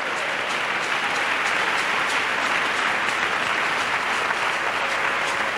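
A congregation claps steadily for Jesus during a church gathering, a dense, continuous wash of applause from many hands that fills the room without pause.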